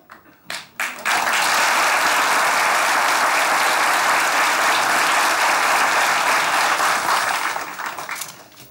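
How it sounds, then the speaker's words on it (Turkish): A studio audience at the Turkish comedy stage show Güldür Güldür bursts into loud, sustained applause after a few stray claps, holding a thick even roar of clapping before tapering off at the end. "Paşa, alkış aldın"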